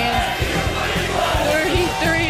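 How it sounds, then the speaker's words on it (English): A crowd of Bengals fans chants together, a dense, loud mass of voices with rhythmic shouted pulses, steady and close throughout the short stretch. "Happy crowd of Bengals fans."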